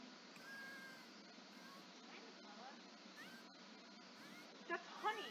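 A cat in The Sims 4 gives several short, faint meows, with a louder pair near the end, under a steady hum of game background sound.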